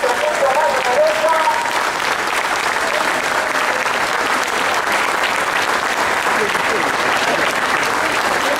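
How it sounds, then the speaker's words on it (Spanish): A large union assembly in a hospital applauds steadily, dense clapping filling the room at full volume from start to finish, with scattered voices mixed into the applause. "Merecemos todos un aplauso porque esta asamblea es mucho más numerosa."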